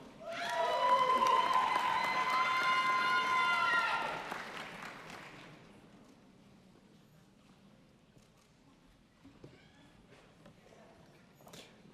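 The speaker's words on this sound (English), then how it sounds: "Please join me in a round of applause" An audience at a graduation ceremony breaks into loud, dense clapping for about four seconds before it quickly dies away into a quiet room with faint murmurs.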